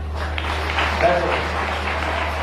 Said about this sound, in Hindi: ललिता के लिए तालियां हो जाए